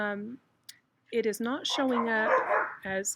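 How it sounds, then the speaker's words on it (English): Dogs bark in the background while a person keeps talking over them, the barks mixed in with the speech across the short stretch. "sorry about the dogs."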